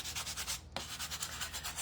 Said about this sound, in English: let's do a little bit of sanding on here.